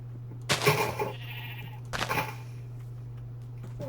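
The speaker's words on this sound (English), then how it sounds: "We've got sheep, which is going to be great." Two loud, close sheep bleats from the Minecraft SevTech: Ages of the Sky modpack, about a second and a half apart, over a steady low game hum.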